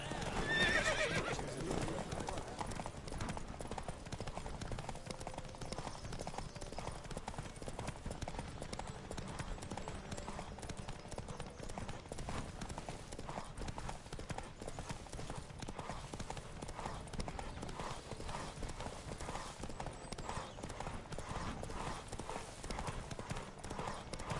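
Horses gallop in a race in the video game The Witcher 3, with a dense, continuous drumming of hooves close up, neighs near the start, and faint voices underneath.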